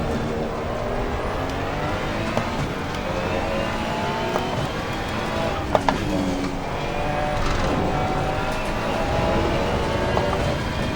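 Ferrari 296 GT3 race car in the racing game Assetto Corsa Competizione at Brands Hatch, a continuous loud engine roar with shifting pitch, steady throughout with a few brief clicks.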